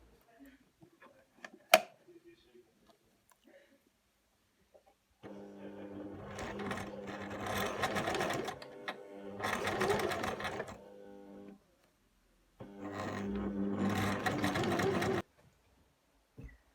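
A domestic sewing machine stitches through several thick layers of fabric while a tunic is being sewn, running in three sustained loud bursts with brief pauses between, after a quiet start with a few small clicks.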